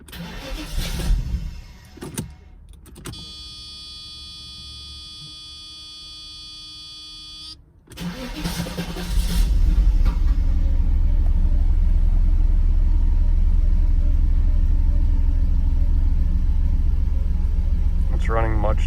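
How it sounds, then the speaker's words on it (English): A car with vacuum leaks cranks over and catches after a steady electronic buzz, then settles into a loud, continuous running rumble that stays close and constant. "So now the car's probably freaking out because it's running so different."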